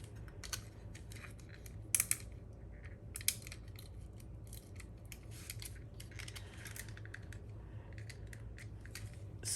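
Small plastic clicks, snaps and scratchy handling of a jammed tape runner being pried at close range, irregular and quiet, with a few sharper clacks amid faint room hiss.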